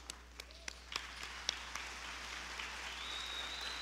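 Quiet audience applause at a Parkinson's expo session, a soft steady patter of many hands with a few sharper claps standing out, heard from a distance in a large hall.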